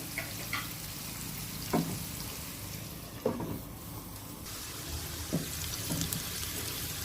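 Onions dusted with turmeric sizzle softly in a covered pan, a faint steady frying hiss with a few light clinks and taps scattered through.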